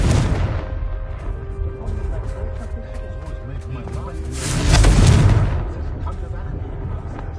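Confringo explosive spell in Hogwarts Legacy bursts with a swelling, rumbling blast midway, set against ongoing game noise and a person talking.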